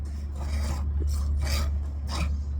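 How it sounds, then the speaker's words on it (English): Milk squirts rhythmically as a roughly three-year-old goat is milked by hand, about one soft rasping stream every half second over a steady low hum, with no talking. "The goat that I'm milking right now"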